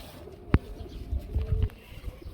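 A male grizzle racing pigeon coos in a pigeon market setting, with a few low, soft calls close by and a sharp knock near the start.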